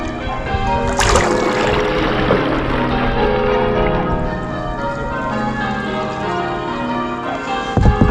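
Church bells in England peal continuously across the water, heard from a kayak on the river, a rich sustained ringing with overlapping strikes throughout and a faint paddle splash near the end.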